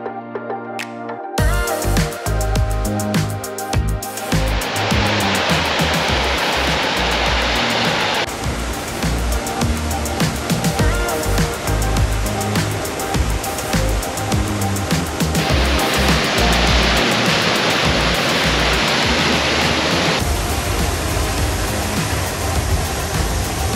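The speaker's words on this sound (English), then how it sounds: "It's home to an 80-foot triple waterfall." A steady, roaring rush of an 80-foot triple waterfall at Rifle Falls, Colorado fills the whole stretch, loud and continuous with no voices.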